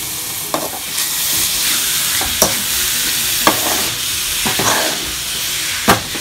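Shredded cabbage stir-fried in hot oil for momo filling, a steady loud sizzle broken by sharp scraping stirs of the spatula roughly every second, close and with no voices.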